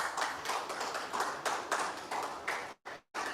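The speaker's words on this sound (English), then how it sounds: "celebrate this moment of the launch with us with a warmer round of applause" An audience at a programmatic advertising conference claps steadily for a few seconds, the applause close and moderately loud before cutting out abruptly.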